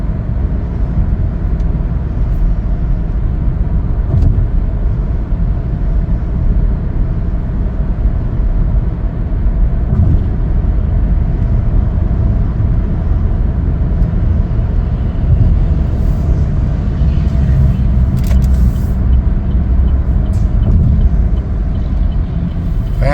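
A 2023 Chevrolet Equinox AWD RS cruises along, filling the cabin with a constant loud low road and engine drone that holds steady without breaks and with no talking.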